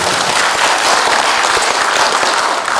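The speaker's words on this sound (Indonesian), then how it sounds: "Tepuk tangan dulu buat Asatindo" Audience at an association's national meeting breaks into loud, steady applause, a dense continuous wash of many hands clapping close by throughout.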